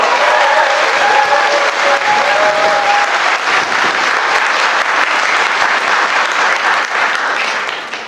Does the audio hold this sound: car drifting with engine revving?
no